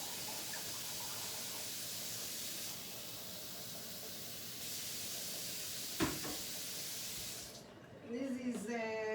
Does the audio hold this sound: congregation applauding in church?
no